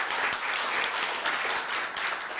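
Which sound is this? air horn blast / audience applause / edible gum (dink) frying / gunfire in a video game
audience applause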